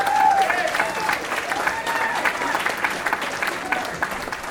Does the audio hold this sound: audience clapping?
yes